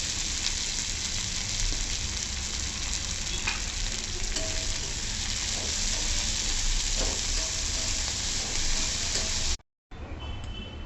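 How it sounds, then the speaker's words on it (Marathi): Chopped fenugreek leaves (methi) sizzling in a little oil, a loud, continuous frying hiss with faint stirring clicks, briefly cut off near the end before resuming. "आता ती आपण थोड्या तेलावर परतवून घेऊ।"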